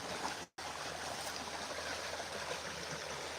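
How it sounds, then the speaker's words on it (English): Rushing flood water around a log jam, a broad, steady roaring wash that is constant and fairly distant, broken only by a brief dropout near the start. "Just unbelievable amount of power this water has."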